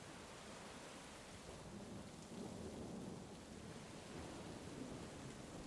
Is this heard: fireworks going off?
no